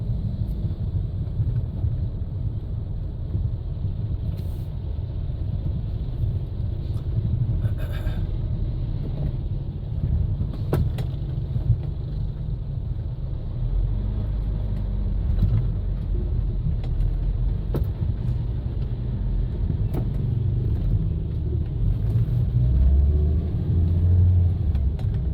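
A car drives through morning traffic in Vientiane, its steady low engine rumble and road noise continuous and loud throughout, with faint wind buffeting and no talk.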